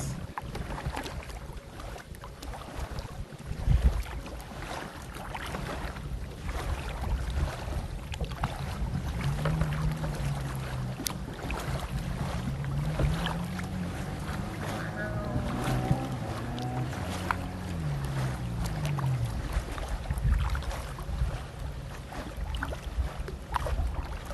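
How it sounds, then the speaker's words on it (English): Steady wind rushing and buffeting across the microphone outdoors on the water, with voices talking over it throughout. "Sorry if the wind sounds bad, guys."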